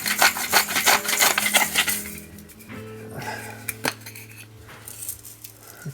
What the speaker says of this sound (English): grinding that, so half a teaspoon of salt.